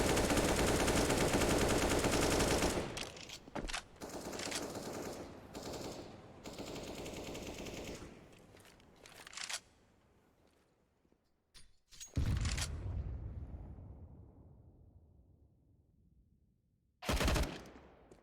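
Rifle and pistol fire in Counter-Strike on the Overpass map: a dense opening burst of automatic fire, then scattered shots and short volleys with quieter gaps, loud and close.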